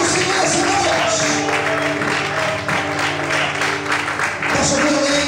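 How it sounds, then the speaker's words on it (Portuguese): A church congregation applauds during a service, producing dense sustained clapping throughout, with a voice speaking over the applause. "Aplauda o Senhor essa noite."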